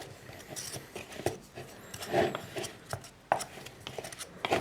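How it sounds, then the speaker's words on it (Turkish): Potatoes being stirred and coated in a container as feed for live feeder insects, soft scraping and wet rubbing with scattered irregular clicks, close and quiet, no talking. "Bunları arkadaşlar şöyle bir karıştırayım hepsine."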